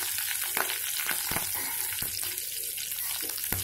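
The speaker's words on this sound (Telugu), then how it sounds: "ఎండుమిర్చి, కరివేపాకు, వెల్లుల్లి కూడా ముక్కలు చేసి వేసుకుందామండి" Dried red chillies, curry leaves and chopped garlic crackle in hot oil, a dense hiss broken by sharp pops and occasional stirring clicks, close and without speech.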